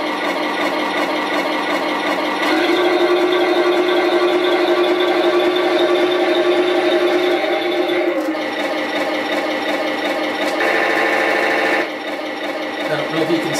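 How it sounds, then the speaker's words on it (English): Electronic machine-gun sound effect from a Heng Long 1/16 Tiger 1 RC tank, a steady buzzing rattle played loud and close, shifting in tone partway through with no talk over it. "machine gun sound with every switch of tank"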